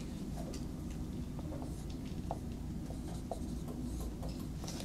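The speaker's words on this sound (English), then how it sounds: "I'll just write" Chalk or marker scratches on a board during an organic chemistry lecture, with soft intermittent strokes and taps over a steady room hum.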